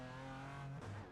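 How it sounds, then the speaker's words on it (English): BMW M4 GT4 G82 race car engine in iRacing, a loud, steady, buzzing note with a clear harmonic whine, dipping briefly near the end as the car shifts. "let's check out the BMW M4 GT4 car, the G82 model"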